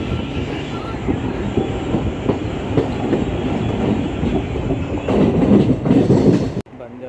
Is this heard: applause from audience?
no